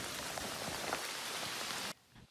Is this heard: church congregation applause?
no